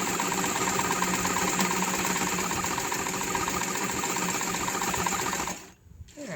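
A Singer 237 heavy duty sewing machine stitches through thick coated fabric with a continuous, steady mechanical hum and rapid rhythmic clatter, close and even, stopping abruptly near the end.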